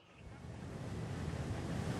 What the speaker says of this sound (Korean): 와, 파도가 굉장히 높아 보입니다